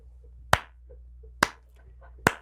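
A slow clap: three sharp, isolated handclaps spaced almost a second apart, close and crisp against a quiet background with a low hum.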